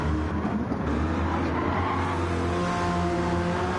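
American muscle race cars in a BTCC race, a continuous engine drone holding steady at a distance, with no talk.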